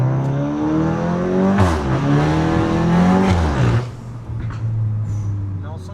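A Volkswagen Golf GTI Performance accelerating hard, its loud engine note climbing through rising revs before easing off partway through, with brief voices over it.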